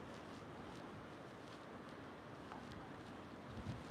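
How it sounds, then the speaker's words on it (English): Steady wind blowing along the Pacific coast in Kushiro, Hokkaido, a continuous broadband rush with gusty buffeting against the microphone and faint surf-like swells, no voices. "A lot of wind."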